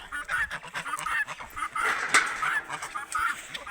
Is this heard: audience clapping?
no